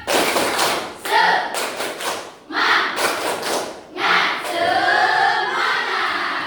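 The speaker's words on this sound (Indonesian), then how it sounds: "kita tepuk semangat terlebih dahulu ya" A school class performs a rhythmic 'tepuk semangat' clapping chant, sharp bursts of group claps and thumps in a patterned beat interleaved with shouted chanting voices, close and loud.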